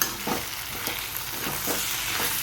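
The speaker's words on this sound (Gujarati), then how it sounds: "સરસ બધું મિક્સ કરી દઈએ." Appam batter being stirred and mixed, a few soft scraping strokes at an unhurried, close pace over a faint background hiss, with no voices.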